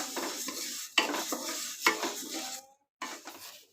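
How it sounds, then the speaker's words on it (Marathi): Dry horse gram (kulith) is roasted in a pan, with a utensil scraping and stirring in uneven strokes that rattle the hard seeds against the metal. The sound is close, with sharp clicks and then a brief pause. "राहिलेले सगळे कुळीथ मी असेच भाजून घेणार आहे."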